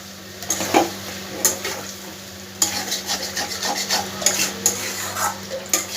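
Potato pieces being mixed with spices in a pan for a bitter gourd (korola) dish, with clinking, scraping stir strokes over a soft sizzle and a low steady hum, near and busier in the second half, with no talking.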